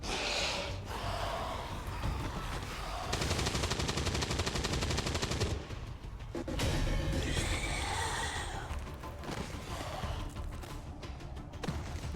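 Turret gunfire in the video game XCOM 2 rattles in a rapid, steady burst of automatic shots lasting a couple of seconds. Breathy vocal sounds and other game noises come before and after.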